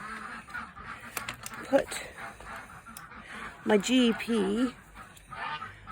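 Ducks and geese in a garden quack and honk in short bursts, one brief call followed by a louder cluster of honks. A voice speaks briefly nearby.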